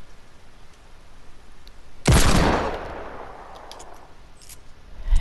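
A single sharp, loud gunshot in Fortnite cracks partway through, then trails off into a fading echo over quiet background noise, with another burst at the very end.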